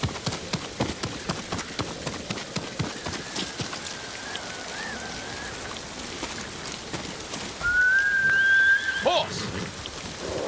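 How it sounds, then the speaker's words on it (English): A horse whistle rings out in the Ghost of Tsushima video game, a sustained tone near the end over a steady patter of rain and clip-clopping hooves, with faint game sound throughout. "Horse!"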